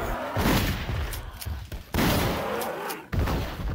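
Three heavy pistol shots in Silent Hill Homecoming ring out one by one at irregular intervals over about three seconds, each a loud, close blast that decays into dim game ambience.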